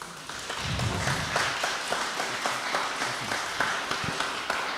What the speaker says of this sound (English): We can applause all the participants of the morning.